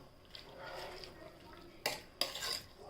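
A spoon stirs spinach and green sorrel dal in a covered pot, giving a soft scraping swirl followed by two sharp metallic clinks against the pot near the end, close and fairly quiet.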